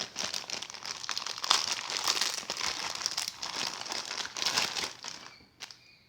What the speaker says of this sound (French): Donc c'est parti, on va ouvrir la figurine.